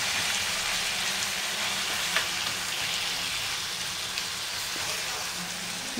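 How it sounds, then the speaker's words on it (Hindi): Chicken with garam masala fries in an open pan, giving a continuous, even, rain-like sizzle at moderate volume with only faint occasional ticks. "फ्लेम को ही रख के अच्छे से इसको ओपन पैन में ही कम से कम 10 मिनट तक अच्छे से फ्राई करेंगे"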